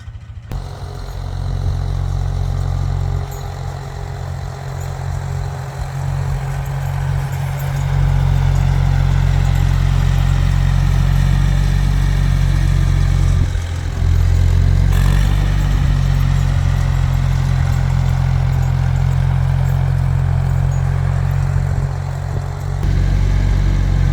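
Farm tractor engine running on a sheep farm while moving hay, a loud, steady, low rumbling drone with mechanical clatter, nearby and continuous with no pauses.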